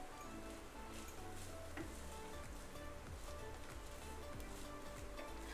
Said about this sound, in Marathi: आता आपण थोडंसं हलकंसं हे खोबरं आपण परतून घेऊ, हलकंसं असं